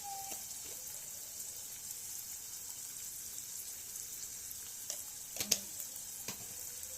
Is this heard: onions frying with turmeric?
yes